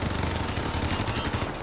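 Dense, continuous gunfire from the Hypercharge Unboxed video game, a steady rattling volley of rapid shots that fills the whole stretch at moderate loudness with no talking over it.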